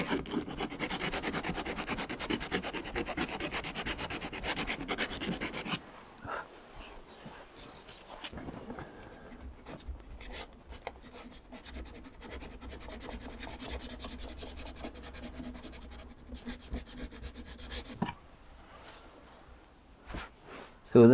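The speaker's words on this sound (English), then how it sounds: "give this whole area a good scuff with some, what's this, 80 grit sandpaper" Close rough rasping as 80 grit sandpaper scuffs a Sachs Roadster 650 motorcycle part, dense strokes at first, then lighter intermittent rubbing with occasional knocks.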